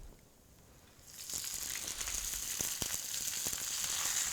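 Garlic and spinach sizzle in a frying pan, a quiet start giving way after about a second to a steady, close, bright hiss with a few soft clicks and stirs.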